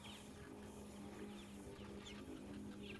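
Soft clucking from a hen leading small free-roaming chicks, faint intermittent calls and peeps over a low steady background hum, with no talking.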